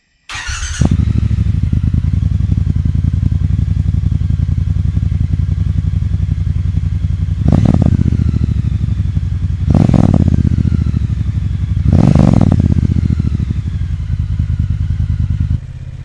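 A Triumph Bonneville T120 motorcycle engine rumbles loud and close at a steady idle, broken by three sharp throttle blips that each flare up and fall back.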